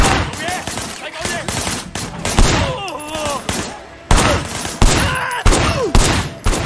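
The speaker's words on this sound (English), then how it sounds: "firing shots from the passenger window" Dense bursts of automatic gunfire from a movie shootout, with shots fired from a car's passenger window; loud, close volleys and rattling fusillades with shouting voices and other action noise mixed in.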